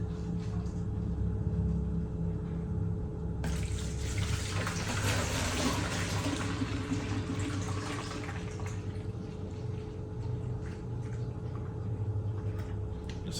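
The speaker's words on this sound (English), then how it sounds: "our wort has chilled down to 70 degrees, so we're ready to transfer it into our sanitized fermenter" Chilled beer wort pouring from a brew pot into a sanitized fermenter for a one-gallon nut brown ale, a soft rushing splash that swells midway and then settles, fairly quiet and close with no talk.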